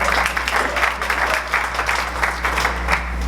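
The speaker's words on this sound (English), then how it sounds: "Round of applause seems appropriate." A lecture audience gathered for a Jesuit speaker series breaks into a round of applause, a dense rhythmic crowd clapping heard fairly close and steady, with no voices over it.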